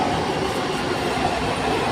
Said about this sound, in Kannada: ಬಂತು, ನಮ್ಮ ಟ್ರೈನ್ ಬಂತು.